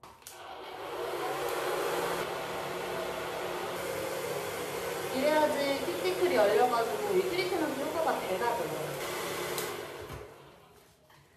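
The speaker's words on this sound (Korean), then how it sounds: "이 드라이기로 뜨거운 바람을 이 안에다가 넣어주시면 돼요" A hair dryer blows hot air into a hair cap with a steady whooshing hum while someone talks over it during a scalp care treatment, the airflow cutting off near the end.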